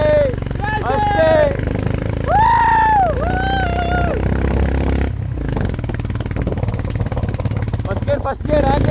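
Himalayan motorcycle revving hard in first gear on an off-road trail, the engine pitch climbing in repeated rising and falling sweeps, loud and close, with people talking and shouting over it.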